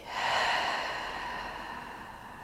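A slow, breathy exhale during gentle yoga breathing, close to the mic, swelling quickly and then tapering off steadily over about two seconds, with no talking.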